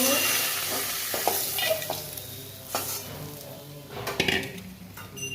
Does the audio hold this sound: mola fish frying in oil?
yes